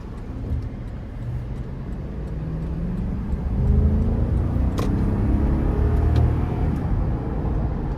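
A 2017 Toyota Land Cruiser in manual shift mode pulls out of a corner, its engine rumbling steadily from inside the cabin as it builds and then holds with rising road noise.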